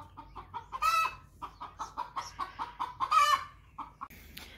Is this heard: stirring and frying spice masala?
no